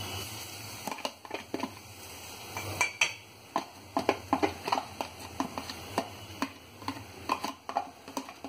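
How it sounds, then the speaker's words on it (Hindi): A spoon clinks and scrapes against a pot as rice is stirred for shahi zarda, sugar starting to melt, producing irregular soft taps and knocks throughout, with no talking. "चावल को अच्छी तरह चलाऊंगी"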